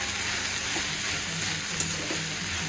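Oil hits a pan for cooking okra and gives a steady, soft sizzle and frying hiss that continues evenly throughout.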